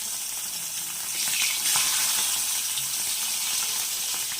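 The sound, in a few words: fish curry (machher jhal) sizzling in a pan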